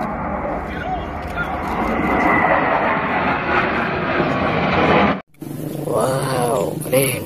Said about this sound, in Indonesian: Wah, ada pesawat tempur.